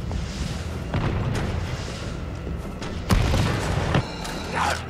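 Rocket launcher fire in Resident Evil 3 sets off heavy booming blasts over a rumbling, chaotic background, with several sharp impacts spaced a second or so apart, loud and close.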